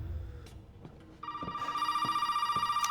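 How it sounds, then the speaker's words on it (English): A telephone rings in the Resident Evil 7 video game, a steady electronic bell tone that starts partway through and keeps repeating at a fast trill, fairly loud over a dim ambient room backdrop. "Phone's ringing, ignore that"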